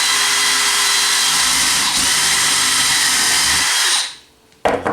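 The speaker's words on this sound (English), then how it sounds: "I'm just going to drill a hole through everything" Power drill boring a hole through layered rawhide and fabric on a shield under construction, a loud steady high whine held for about four seconds before spinning down, followed by a short handling clatter.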